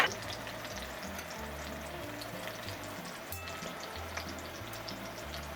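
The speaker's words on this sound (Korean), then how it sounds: "마늘을 살짝 노른빛까지만 익혀가지고" Garlic fries gently in a pan alongside a one-pan pasta, giving a soft, steady sizzle with faint crackles, close but quiet, with a low hum underneath and no talking.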